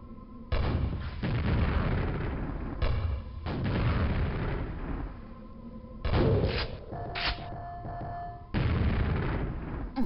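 Grenade blasts in the Quake shooter, played on PC, come as a string of heavy booming explosions with rumbling tails, several separate bursts spread across the stretch, loud and close, with no talking over them.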